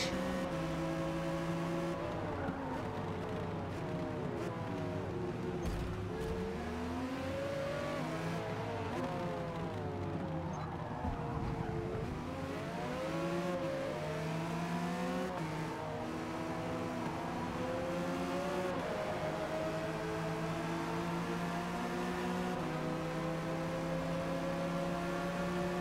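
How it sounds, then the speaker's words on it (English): A Mercedes CLK race car engine in Forza Motorsport drones and revs almost without pause, pitch climbing and falling through gear changes, with other cars close by on a racing track. "Just racing down our fellow CLK driver here and the Porsche."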